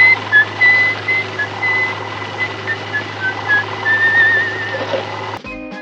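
Columbo whistles the This Old Man melody, a thin clear tune in short phrases over a low steady hum, ending in a brief clatter.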